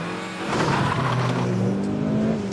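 A Mitsubishi Lancer Evo IX launches hard and accelerates, its engine note rising loudly and steadily up close over a couple of seconds, with a faint tire squeal.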